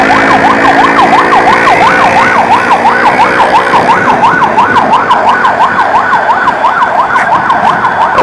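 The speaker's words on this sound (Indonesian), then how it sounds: "Jadi dua ambulans ya" Two ambulances run their sirens together, a loud, close electronic wail sweeping rapidly up and down in a steady repeating pattern over engine rumble, with no talk.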